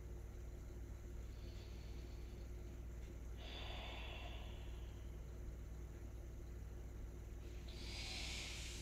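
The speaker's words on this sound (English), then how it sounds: "sit back for a nice deep breath. Inhale, exhale. One more deep breath here." A person takes slow, deep breaths, with a long airy inhale and exhale followed by another breath, faint and close over a steady low background hum.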